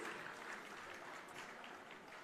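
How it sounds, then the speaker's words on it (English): An audience applauds at a startup and investment panel event in a hall, a continuous, fairly soft wash of clapping from many hands with no pauses. "Could we have a louder round of applause"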